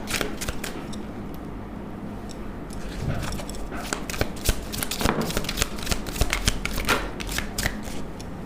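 Deck of tarot cards being shuffled by hand, close and fairly loud, with a steady run of crisp riffling bursts and flicks throughout.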